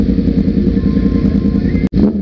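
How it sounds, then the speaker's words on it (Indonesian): A Yamaha R1 sport bike engine revs loud and close in a rough, throbbing burst, cuts out for an instant, then roars again. "Dia mencoba menggeber motornya."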